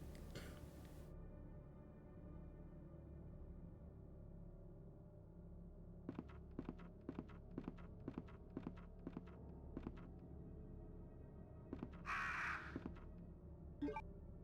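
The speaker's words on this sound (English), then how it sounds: "Anyone who played Resident Evil 1 will understand why as soon as I heard the crows" Crows caw in the 1998 video game Resident Evil 2, with a short cawing burst near the end that follows a run of evenly spaced footstep-like thuds over a low, steady ambient drone.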